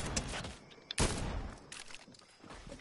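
Gunfire in a video game shooter, with a sharp loud burst near the one-second mark among scattered shots and rattling noise across the short stretch.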